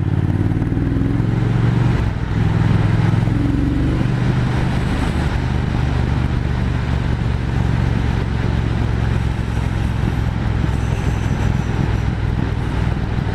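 A Triumph Speed Twin 1200 motorcycle riding through a bend on a mountain road, its engine a loud, steady drone with heavy wind rush throughout, recorded from the bike itself.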